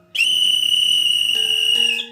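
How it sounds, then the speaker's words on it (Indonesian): One loud, shrill alarm whistle blast at a harbor, held steadily for about two seconds, its pitch wavering slightly before it cuts off. "Salah seorang di antaranya kemudian berniup peluit tanda bahaya"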